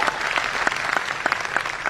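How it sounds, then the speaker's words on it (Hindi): Audience clapping at a Modicare business event, a steady round of applause from a large indoor crowd with no talk over it. "तालियां होनी चाहिए कि नहीं होनी चाहिए"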